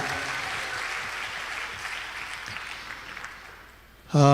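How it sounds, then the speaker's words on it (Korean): A church congregation applauds steadily at a pastors' church-growth conference, a dense wash of many hands clapping together that gradually thins out before a voice cuts in at the end. "박수로 하나님께 영광 돌립니다."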